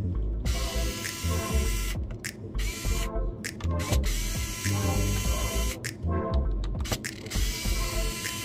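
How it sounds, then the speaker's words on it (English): A screwdriver backs out the hinge screws on a Lenovo ThinkPad laptop with close, repetitive ratcheting clicks and small metallic creaks, coming in short bursts with brief pauses between turns. "Remove 4 screws from the right side."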